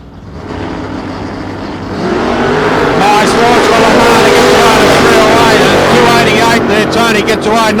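A 1967 Camaro drag race car launches off the line at a nostalgia drag event, its engine rising from a loud idle into a roaring, sustained full-throttle pull that stays close and dominant, with a voice talking underneath.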